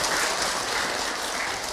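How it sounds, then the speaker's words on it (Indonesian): Brief, dense applause from the crowd at an Islamic sermon, a continuous wash of many hands clapping with no voices over it. "Tepuk tangan dong buat ibu yang bertanya."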